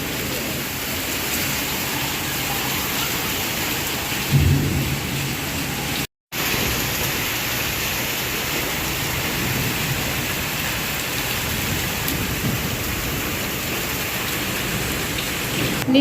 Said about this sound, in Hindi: टेढ़ी बारिश हो रही है, एक तो हवा के साथ बारिश हो रही है